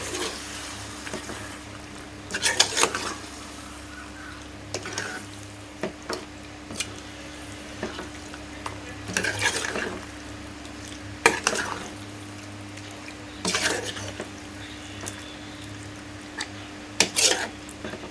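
Chicken gravy curry being stirred in a pan, with intermittent scraping clinks of a utensil against the metal and a soft steady sizzle beneath, repeated stirring strokes close by with no talking.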